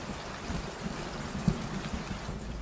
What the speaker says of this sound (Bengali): ঝমঝম করে বৃষ্টি নামল।